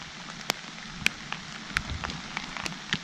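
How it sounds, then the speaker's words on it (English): Steady rain falls on a pond where anglers fish for snakehead, a constant hiss with scattered louder drops ticking every half second or so. "But I'm confident that this rain will slow down as it is right now."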